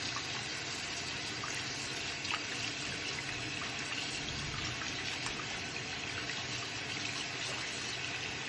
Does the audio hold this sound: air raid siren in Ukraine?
no